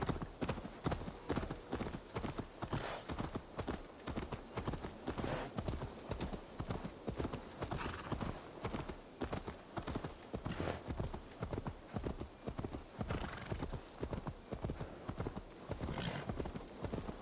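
Horse hooves clip-clop in a steady walking rhythm in Assassin's Creed Valhalla, close and even, with a faint voice briefly in the background.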